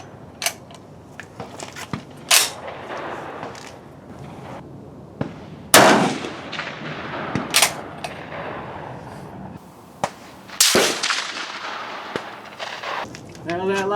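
Rifle shots at an outdoor shooting range ring out as about four sharp, loud cracks spread several seconds apart, with quieter clicks and handling noise between them and faint background voices.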